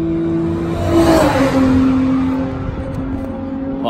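A loud BMW M4 race car roars past nearby at Oulton Park circuit, its engine pitch sliding downward as it goes by, then fading into a steady rumble.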